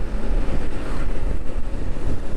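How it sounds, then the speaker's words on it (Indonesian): Strong wind roars past during a Yamaha XMAX scooter tour in Bali, a loud, continuous buffeting rumble with no talking. "Anginnya juga kenceng."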